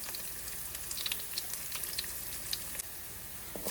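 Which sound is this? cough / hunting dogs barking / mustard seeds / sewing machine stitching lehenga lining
mustard seeds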